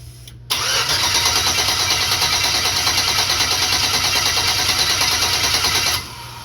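A turbo LS-swapped Chevrolet S10 cranks and fires up abruptly. It settles into a loud, close, steady running drone for about five seconds, then cuts off sharply.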